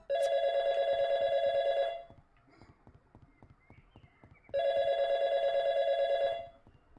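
A telephone rings in the video game YIIK in two loud, long buzzing bursts separated by a pause, with soft rhythmic footsteps audible in the gap.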